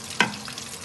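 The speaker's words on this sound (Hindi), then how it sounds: "अभी कुछ फ्राई हो रहे हैं, तड़का भी डालेंगे।" Kebabs fry in desi ghee for hareesa, a sharp stir and sizzle bursting up briefly before settling into a quieter crackle nearby.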